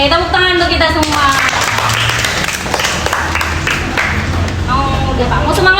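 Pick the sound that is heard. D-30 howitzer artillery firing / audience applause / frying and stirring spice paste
audience applause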